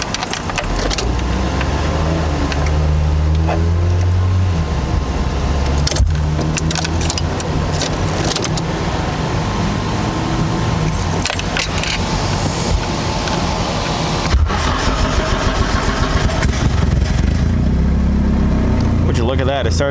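A troubled car's engine is primed and started, then runs steadily with a low rumbling idle and a few revs, loud and close, while people talk over it throughout.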